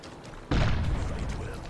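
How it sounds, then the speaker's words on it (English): A single sudden loud gunshot-like boom from the video game Chivalry: Deadliest Warrior cuts in and rings on, heavy in low rumble, with no talking over it. "Well, I hear gunshots."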